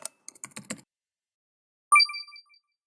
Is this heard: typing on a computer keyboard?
yes